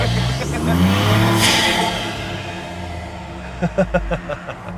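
A Ford Ranger Raptor pickup truck engine revs up loudly and roars steadily, then rumbles lower with a few sharp bursts near the end.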